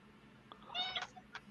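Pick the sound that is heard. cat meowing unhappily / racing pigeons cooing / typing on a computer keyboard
cat meowing unhappily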